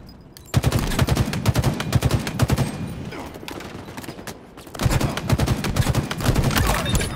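Automatic gunfire in the video game Halo Infinite during a ranked match, rapid bursts of shots rattling in two main volleys with a short lull between, alongside game voice announcements.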